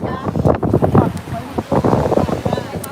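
Strong wind blowing across a beach in Buzios, Brazil, a gusty, rumbling buffet on the microphone, close and loud throughout, with faint voices underneath.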